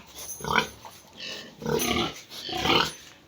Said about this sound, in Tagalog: Yan talaga ang pinakauna kong baboy.